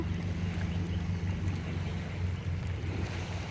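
A tourist boat cruising the Alleppey backwaters in Kerala gives a steady low motor hum mixed with a wash of water and wind noise, continuous and unbroken, with no voices.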